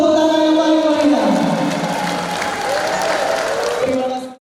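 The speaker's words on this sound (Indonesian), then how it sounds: "Tepuk tangan yang paling meriah." Applause from an audience at an International Day of Persons with Disabilities event in Kediri, a sustained wash of clapping lasting a few seconds under a speaker's amplified voice, then cutting off abruptly.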